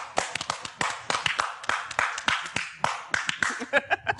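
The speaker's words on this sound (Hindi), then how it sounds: "तालियां." A studio audience on a talk show claps after a gift voucher win, sparse uneven claps and taps from a few hands, close and rhythmic, breaking into quicker bursts near the end with a hint of voices.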